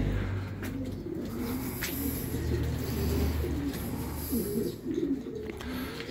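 Racing pigeons arriving together at a loft during the first lap of a south race in San Narciso, with steady soft cooing and wing flutters close by over a continuous low rumble.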